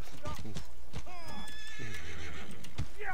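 A horse in a video game whinnies loudly with a long descending neigh, accompanied by a few sharp hoof clops at the start and end, close and prominent.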